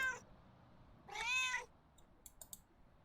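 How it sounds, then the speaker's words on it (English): A cartoon cat in the pet-care video game Pets Hotel gives one clear, rising meow mid-clip, preceded by a brief chirp and followed by soft game clicks, with no talking. "This is how one pets a cat."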